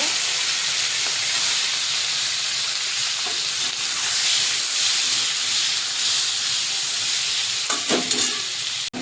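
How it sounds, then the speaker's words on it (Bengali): Turmeric-and-salt-coated prawns frying in hot mustard oil in a kadai, a loud, close, continuous sizzling hiss with occasional spatters and a few stirring scrapes near the end. "নুন হলুদ মাখিয়ে নেওয়া চিংড়ি মাছটা দিয়ে দেবো।"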